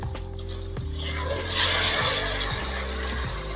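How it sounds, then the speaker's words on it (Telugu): Raw rice pours into a pot of water on a kitchen stove, making a rushing, splashing patter that swells midway and then settles into a steady wash under a low background hum. "ఇప్పుడు మనం ఈ రైస్ని అందులో వేసుకునేవాలి"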